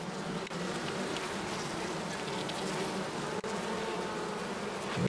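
Honeybees fill an opened hive with a steady, dense buzzing hum, close and continuous, with no voices over it.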